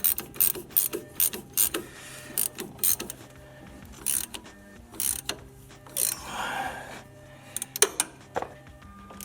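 A hand ratchet tightens an end link bolt on a 2014-18 GM Silverado or Sierra truck, its pawl clicking in quick repeated bursts up close, broken by short pauses and scattered metallic clunks.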